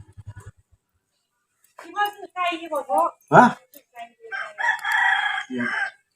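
A rooster crows outdoors in a Thai setting, its call rising in short bursts among other fowl clucking, while someone talks over much of it.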